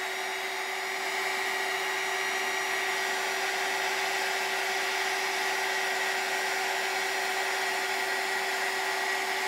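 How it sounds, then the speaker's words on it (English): A heat gun blows hot air in a steady, continuous whoosh with a fixed whine, close and loud throughout with no talking. "Then with the magic gun, the heat gun, we're literally just making that"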